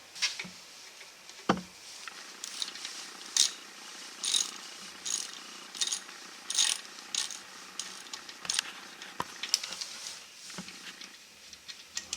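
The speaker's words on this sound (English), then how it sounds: "now we're going to remove the caliper. We're using a 12mm socket" A ratchet with a 12mm socket loosens the brake caliper bolts during a rear-end swap on a GMC Sierra, making repeated quick clicking bursts up close, with a couple of sharper metallic knocks in between.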